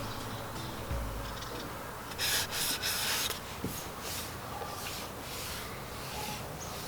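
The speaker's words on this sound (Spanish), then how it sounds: "lo vamos a dejar secar otra vez y lo voy a volver a lijar" Steady abrasive rubbing of sandpaper across scratched car paint, continuous strokes with a few louder bursts midway, close and moderately quiet.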